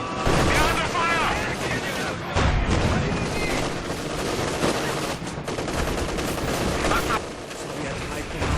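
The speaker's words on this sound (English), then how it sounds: "We're under fire!" Rapid machine-gun bursts and heavy artillery blasts pound through a Company of Heroes 2 battle in the Kharkov Pursuit mission, loud and close with overlapping explosions, while a soldier's voice calls out over the gunfire.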